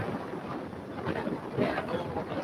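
Wind rushes over the microphone of someone riding a motorbike, a steady close rumbling roar with no break, while someone speaks through it.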